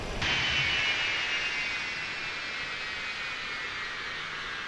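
Concorde jet engines spooling down after taxi in Microsoft Flight Simulator, a steady loud broadband whine and rush that begins abruptly and holds with a gradual fall in level.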